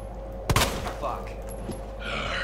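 A single loud gunshot rings out in Resident Evil 2, a sharp close crack followed by a short echoing tail and faint rattling, over a low hum of game ambience.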